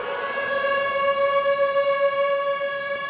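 Wailing siren sound effect on an Alcatraz audio tour, a steady tone with strong harmonics that sounds slightly processed, sustained loud and even for a few seconds with no talking.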